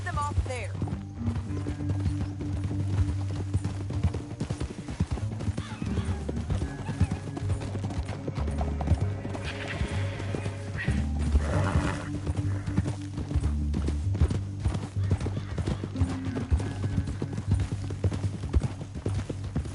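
Hooves clip-clop in a steady galloping rhythm from horses in the video game Red Dead Redemption 2, with occasional whinnies and voices talking over the gameplay.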